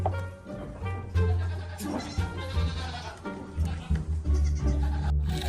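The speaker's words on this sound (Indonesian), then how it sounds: "Wow, lihat teman-teman, kita menemukan domba." A goat or sheep bleats repeatedly up close, with wavering cries rising over a busy background of handling noise and bumps.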